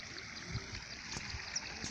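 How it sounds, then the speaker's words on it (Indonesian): Water of a small river or dam channel beside rice fields on a sunny late morning, flowing with a steady, continuous trickling and gurgling rush, near and moderately loud with no talk. "Dan ini adalah sungai."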